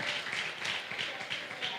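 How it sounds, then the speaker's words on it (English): Audience applause at an early childhood centre graduation ceremony, steady dense clapping from many hands throughout, fairly loud and continuous. "Give them a clap again."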